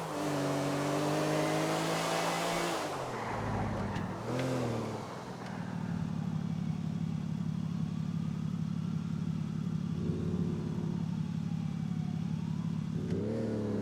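A car driven in the video game GTA IV: a loud engine revs up, drops as gears shift, then holds a steady droning hum with brief swells, close and continuous.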